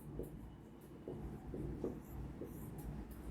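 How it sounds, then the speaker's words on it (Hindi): Writing on a board during a Class 11 chemistry lesson on the periodic table produces a handful of short, faint scratchy strokes, close by, spaced irregularly against a quiet room hum. "यानी यहाँ पे हम लिखते हैं"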